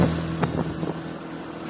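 Boat ride on a river through Surabaya city, with a steady low engine drone and wind rushing across the microphone, continuous throughout.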